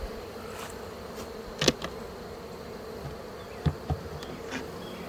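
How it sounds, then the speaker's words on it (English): Honey bees buzz in a continuous low hum close by in an open hive, with a few sharp knocks and taps breaking through. "I'm hoping there's quite a few bees up here"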